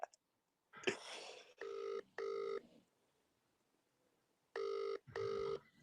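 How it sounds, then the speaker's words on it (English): A phone ringing in bursts: a short burst of noise, then two electronic ring tones in quick succession, a pause, then two more rings, clear and fairly close. "They hear the phone ringing."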